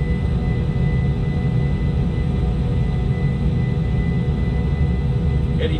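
Boeing 737 jet engines at takeoff thrust in a flight simulator, a steady loud roar and rumble that holds constant throughout.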